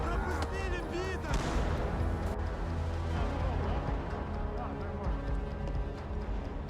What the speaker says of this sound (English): Grenades and gunfire.